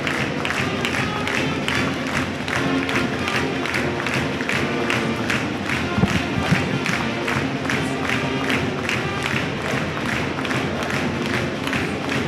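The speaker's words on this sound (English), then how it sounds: "as you hear the pep band and the Grantsburg School song and the non-rhythmic clapping" Steady, loud crowd clapping fills a high school boys basketball gym at a Webster Tigers at Grantsburg Pirates game, with irregular overlapping claps and crowd noise throughout.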